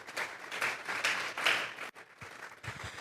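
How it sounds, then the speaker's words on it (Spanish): A congregation in a church applauds, scattered hand claps forming a faint, uneven patter that swells and fades over a few seconds, heard alone. "Vamos a darle un fuerte aplauso pues al Señor esta tarde."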